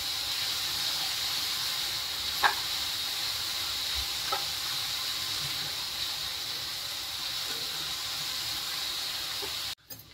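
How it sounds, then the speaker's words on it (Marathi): Sliced onion fries in a pan for a Marathi potato bhaji, a steady close sizzling hiss with a couple of soft clicks of stirring, running continuously until a brief knock at the end. "आता त्याला चांगला कलर यापर्यंत भाजून घेऊया आपण"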